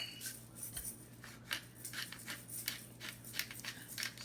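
A pepper grinder cranks out pepper in a kitchen while stuffed portobello mushrooms are prepared, giving a steady run of crisp, gritty crunching bursts at close range with no voices.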